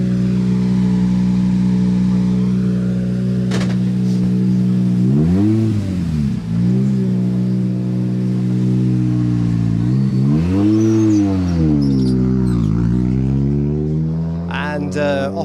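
A rally car engine at a stage start of Rally Poland idles loudly, then revs hard in rising and falling sweeps as the car pulls away, close and dominant, with a commentator talking over it.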